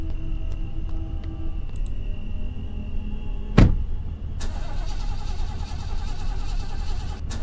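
A car in the horror video game Fears to Fathom struggles to start, a steady mechanical churn broken by a sharp click midway before the engine catches and keeps running.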